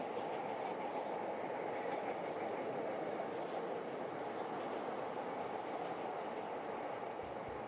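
Train rolling along a Tokyo railway line, a steady continuous rumble with wheel and rail noise holding at an even level from start to finish, with no voices.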